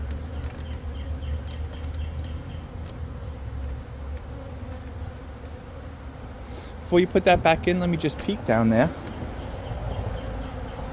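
Carniolan honeybees hum steadily around an open hive during an inspection, a continuous close drone that runs throughout while a person speaks briefly partway through.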